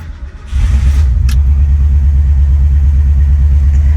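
A classic Ford Mustang engine starting up, a brief crank then a loud, deep rumble that settles into a steady, heavy idle right up close.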